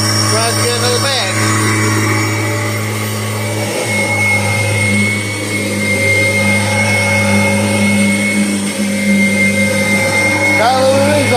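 An old 1994 Kirby Generation 4 upright vacuum cleaner runs with a loud, steady motor whine and hum, shifting a little in pitch as it is moved, while a person talks over it.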